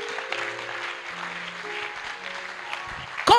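A church congregation claps and cheers for Jesus during a French-language sermon, a steady, moderately loud wash of applause with a sustained organ-like tone underneath, ending in a sharp louder burst.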